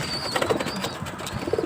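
Brief soft cooing of pigeons mixed with faint high bird calls and a hint of fluttering.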